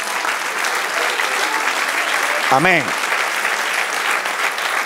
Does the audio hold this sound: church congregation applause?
yes